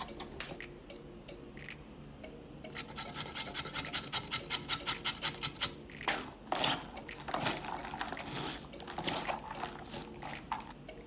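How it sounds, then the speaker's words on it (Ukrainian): Rhythmic rasping strokes of peeled vegetables being grated for a salad, a steady run of quick scrapes that then becomes slower and more irregular, close and moderately loud. "Натираємо зручним для вас способом."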